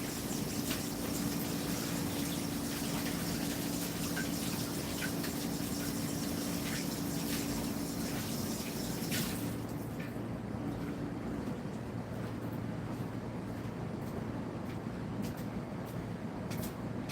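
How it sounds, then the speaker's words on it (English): Water runs steadily from a tap as a paint palette is rinsed, a continuous rushing spray that shifts tone partway through, with faint clatter under it and no talking. "I'm gonna go rinse my palette out real quick"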